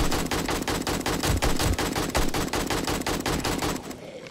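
An AK-47 fires a long, rapid automatic burst in the video game 7 Days to Die, with loud, evenly spaced shots that stop abruptly near the end.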